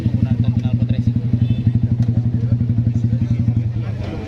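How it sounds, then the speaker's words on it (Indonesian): A motorcycle fitted with a racing exhaust idles loudly with a deep, rapid, pulsing exhaust beat close by, steady throughout, with a voice faintly underneath. "keseluruhan kendaraan yang kita amankan menggunakan knalpot racing."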